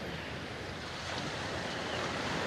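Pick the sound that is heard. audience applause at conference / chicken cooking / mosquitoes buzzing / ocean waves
ocean waves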